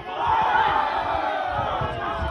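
A football crowd at a Gornal Athletic match roars and chants together, a dense, sustained wall of voices heard from within the stands, steady and loud throughout.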